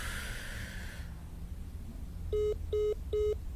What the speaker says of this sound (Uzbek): Mana, telefoniga yana javob bermayapti.